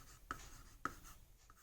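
Marker or chalk strokes on a board during a Hindi maths lesson, two short, quiet taps and scrapes with a fainter third, heard alone in a near room.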